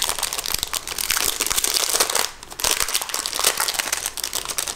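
A package being opened, its plastic and paper wrapping crinkling and rustling loudly up close, nearly continuous for several seconds with a short pause midway.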